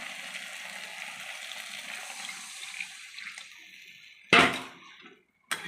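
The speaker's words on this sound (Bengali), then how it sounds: "এবার আমি জল দিয়ে দেবো।" Water poured into a hot pan of browned chicken curry with potatoes: a steady hiss of liquid that fades, then a sudden loud splash-and-sizzle burst, followed by a short sharp spurt at the very end.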